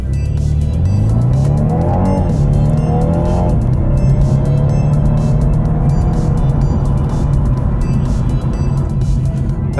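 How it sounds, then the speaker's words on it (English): A 2021 BMW 430i's 2-litre four-cylinder engine in Sport Plus mode revs hard and climbs through the gears, loud and close from inside the car, with a steady roar and no talking. "I swear that is one of the best sounding 4-cylinder 2-litre engines I've ever heard"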